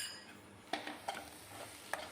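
Fried egg sprinkled with pepper powder is stirred in a pan on a stove, giving three soft scraping strokes over a faint, steady sizzle.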